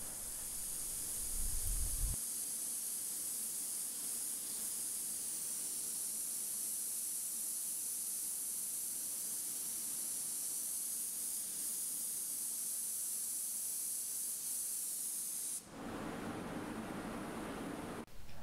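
A 3M Accuspray spray gun sprays paint onto a panel in a continuous, even hiss that runs for long stretches, with a brief pause and a restart near the end, heard alone without talk.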